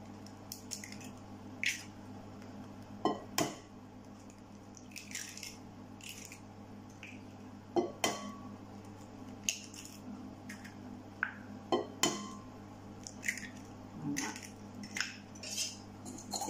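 Caster sugar and four eggs mixed in a bowl for a molten chocolate cake batter, irregular metallic clinks and wet squishing strokes against the bowl over a faint steady hum, close, with no talk.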